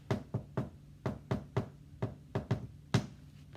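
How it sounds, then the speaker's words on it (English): Knuckles rap on a wooden door in about a dozen dull, close knocks, grouped in irregular bursts of two and three, with nothing else over them. "So when Little Red knocked"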